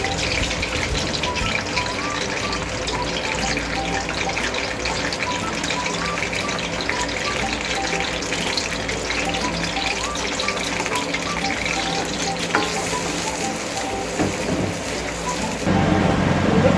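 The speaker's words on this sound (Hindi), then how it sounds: "प्याज हमारे फ्राई हो गए" Onions sizzle and fry steadily in hot oil with bay leaves and cinnamon sticks for a kala chana pulao, a dense crackling hiss that runs throughout and swells louder near the end. Faint speech sits in the background.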